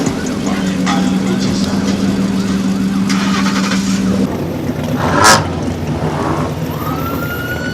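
A car engine revs at a crowded Long Island car meet, loud rising and falling engine noise mixed with a siren and street clamour, with people talking nearby.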